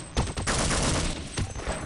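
Rapid gunfire from the Half-Life: Opposing Force video game, loud dense bursts of shots packed together with brief gaps, close and continuous throughout.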